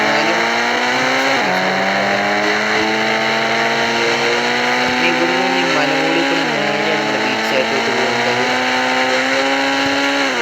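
A Mahindra Thar engine runs loudly and continuously, its tone steady, with two sharp shifts in engine pitch partway through.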